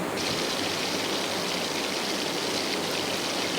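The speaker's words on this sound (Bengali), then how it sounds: "তো এবারে দেব আমি জল" Water pours steadily into a cooking pan, giving a continuous, even rushing hiss that stays close and constant throughout with no talking.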